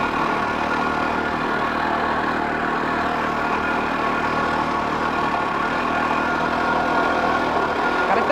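A motorbike engine runs in a water-fuel experiment, giving a steady, loud, continuous drone that holds an even idle throughout with no talking.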